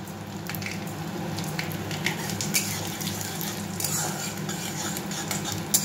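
Soft, steady frying sizzle of mung dal in a pan, with light scraping and occasional clinks of a utensil stirring, close and fairly quiet.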